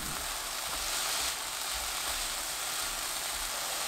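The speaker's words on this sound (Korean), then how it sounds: "고운 소금 반큰술 넣고 1분 볶습니다" Cabbage stir-frying with fine salt in a pan over medium heat gives off a steady, dense sizzle and hiss, close and even, with a few soft stirring knocks and no voices.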